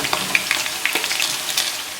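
Okra for bhindi masala fries in hot oil while being gently stirred, giving a bright, close sizzle with soft scraping and clinking stirs, loud and continuous, without speech.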